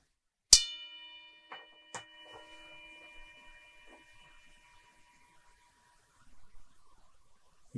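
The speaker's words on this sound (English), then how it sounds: "So I'm going to ring the bell." A single bell is struck once, a bright clang that rings out with a long, slowly fading shimmer of overtones. A few faint knocks and rustles follow in a quiet room.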